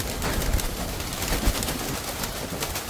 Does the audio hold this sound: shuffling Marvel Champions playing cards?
no